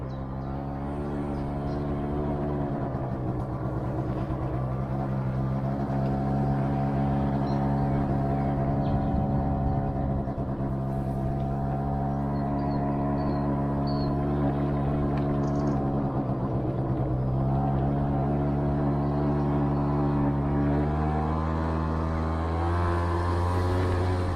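Motor scooter riding along a rural road, a steady droning engine hum that holds for the whole stretch with slight shifts in pitch, close and continuous with no voices.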